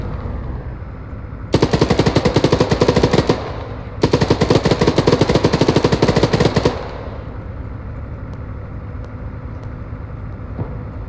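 Automatic weapon fire in Arma 3, two loud sustained bursts of rapid, evenly spaced shots, each lasting a couple of seconds, over a low steady background rumble that continues after the firing stops.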